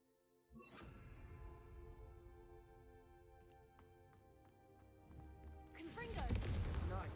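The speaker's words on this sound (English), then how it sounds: "a Confringo cast travels a bit farther than that of a spell like Incendio" A fiery Confringo spell is cast in the Hogwarts Legacy game: a sharp whooshing burst opens, magical tones and faint crackles follow, and a louder fiery blast rushes in near the end.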